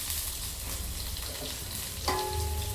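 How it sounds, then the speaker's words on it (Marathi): Chopped green chillies frying in ghee over a lowered gas flame make a continuous soft sizzle, close by, with a brief clink of a utensil near the end and no voices. "हिरवी मिरची पण आता तुपात तळून घेऊया"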